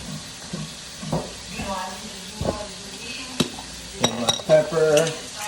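Lamb and vegetables sear in a pan, with a soft sizzle under stirring, scraping and clinks of utensils against cookware, busier toward the end.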